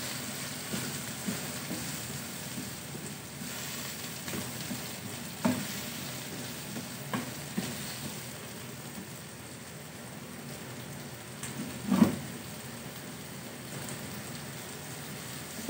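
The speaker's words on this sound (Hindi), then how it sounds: "सब चीज़ें तेज़ आंच पे हमने फ्राई करनी है" Tomatoes and capsicum frying over high heat, a low steady crackling sizzle throughout, with a few soft knocks of a utensil against the pan, quiet and close.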